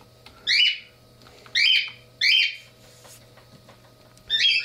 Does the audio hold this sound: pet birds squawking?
yes